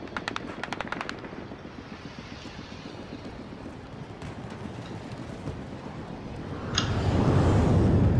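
Rapid bursts of machine-gun fire crackle early in a Battlefield 2042 firefight, followed by a sustained rumbling din of combat that swells louder near the end, with no talking.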